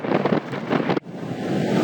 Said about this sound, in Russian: Под такой ужасающий ветер.